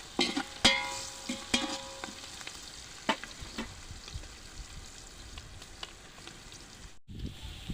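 A spoon stirs turmeric into a pot of village-style mutton curry, making soft repeated scrapes over a steady frying sizzle, close and moderately quiet with no talk.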